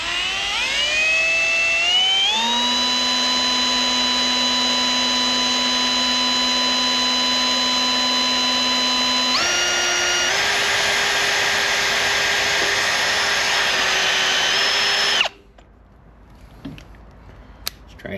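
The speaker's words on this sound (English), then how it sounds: "So we're gonna pre-drill this" A loud, steady power drill whine runs for about fifteen seconds while pre-drilling aluminum with a 1/8 inch bit, stepping up in pitch twice as it speeds up, then cuts off into near silence.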